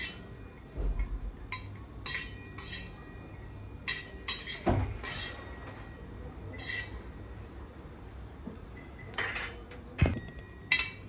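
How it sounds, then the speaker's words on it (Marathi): Dried coconut is dry-roasted in a pan, with scattered scrapes and clinks of a spatula against the metal and a quiet rustle in between. The sounds are close and intermittent, with no talking. "आता आपण सुकं खोबरं भाजून घेऊया"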